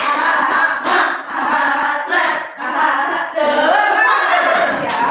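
A class claps out the rhythmic tepuk semangat spirit clap in bursts of sharp, in-time hand claps, with pauses between the phrases and voices chanting along.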